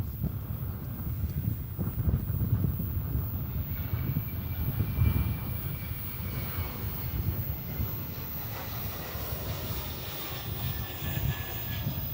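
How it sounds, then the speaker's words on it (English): A Boeing 777-200ER airliner flies past at DFW Airport, its steady low jet-engine roar holding at a distance for the whole stretch, with some wind noise on the microphone and no voices. "Again, that's a 777-200ER."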